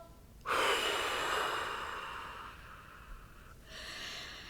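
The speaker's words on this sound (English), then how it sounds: "take a deep breath. Exhale." One person takes a deep, audible breath in and then lets out a long, gradual exhale, close and soft, with a second breath starting at the end.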